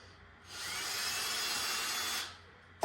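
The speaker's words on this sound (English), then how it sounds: "Now the first thing I want to do is drill a hole in this." A power drill bores a hole through a gingerbread house piece being upcycled into a bird feeder, one steady high whirring grind lasting about two seconds with a sharp start and stop, alone and close.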